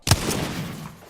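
Gunfire strikes a cargo bot in the Apex Legends video game. One sharp, loud shot opens the clip, and a dense rattling tail of impacts and game noise follows for about a second.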